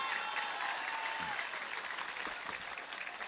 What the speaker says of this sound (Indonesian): Tepuk tangan untuk Wongsorejo.